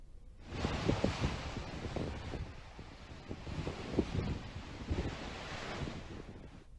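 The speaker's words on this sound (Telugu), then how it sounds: "శ్రీశైలం జలాశయానికి భారీగా వరద నీరు వస్తోంది" Heavy flood water surging into the Srisailam reservoir after upstream rains, a steady roaring wash of water with gusty wind buffeting the microphone, continuous and fairly loud throughout.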